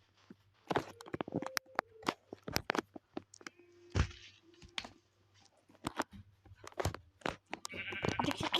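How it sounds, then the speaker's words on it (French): Sheep bleating in Minecraft, a few short wavering bleats scattered among clicks, taps and footstep-like sounds in an otherwise quiet game scene. "Ah, mouton."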